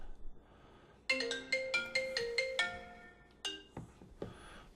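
A phone ringtone plays a quick series of bright electronic tones, several evenly spaced beeps followed by a few more, close by in an otherwise quiet room.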